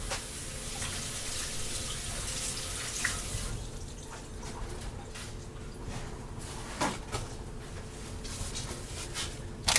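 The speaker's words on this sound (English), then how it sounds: "I'm going to wash my hands." A kitchen tap runs steadily while hands are washed, giving a continuous broad splashing hiss with small clinks and shifts in the flow and no speech.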